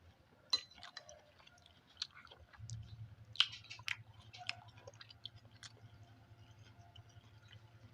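Chewing and biting into spicy Cirebon-style tahu gejrot, fried tofu in a sour chili broth, with close, wet mastication clicks and soft crunches in an irregular rhythm over a steady low background hum, with no talking.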